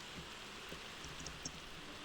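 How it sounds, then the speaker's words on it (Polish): Rain begins falling in Minecraft, a soft uniform hiss with a few faint high ticks of drops, quiet and continuous throughout, without any voice. "O nie, deszcz zaczął padać."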